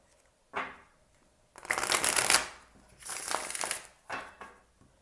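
Tarot cards are shuffled by hand in several bursts: a short one, then two longer riffling stretches and a final brief flick. The shuffling sounds close and soft, with no talking.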